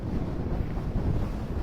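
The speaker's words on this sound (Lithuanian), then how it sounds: "nes vėjas tikrai yra įspūdingas šiandien" Strong wind buffets the microphone on a frozen lake in Sweden during an ice-fishing trip, a constant loud low roar and rumble with no break.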